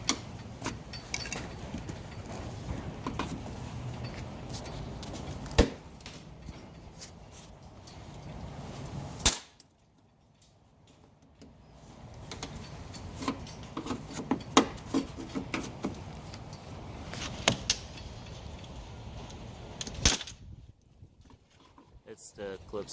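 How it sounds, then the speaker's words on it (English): Old, brittle plastic trim clips snap and crack while the lower trunk lid moulding is pried off a 2010–2013 Range Rover Sport L320, with sharp pops over steady scraping and rubbing nearby. "It's the clips breaking apart."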